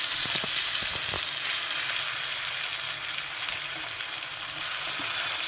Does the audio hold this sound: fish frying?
yes